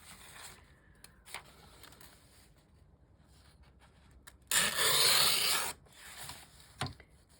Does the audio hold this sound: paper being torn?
yes